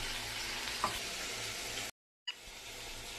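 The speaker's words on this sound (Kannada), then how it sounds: "ಆಮೇಲೆ ನಾವು ಮಟನ್ ಚಾಪ್ಸ್ನೇ ಇದಕ್ಕೆ ಸೇರಿಸ್ಬೇಕು" Mutton chops sizzle in a pan of pepper masala, a steady close hiss of frying with a brief clatter, cut by a short gap of silence before the sizzle resumes.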